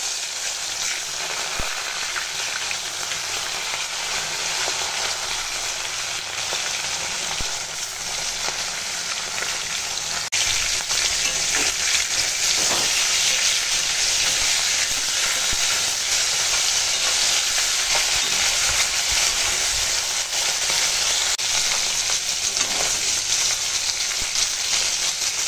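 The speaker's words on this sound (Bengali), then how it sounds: "এখন দেখো মাছটা ভাজা হয়ে গেছে, আর তুলে নেব।" Young rohu fish fries in hot oil in a scorched kadai, giving a loud, steady, dense sizzle and crackle that carries unbroken for the whole stretch with no voices over it.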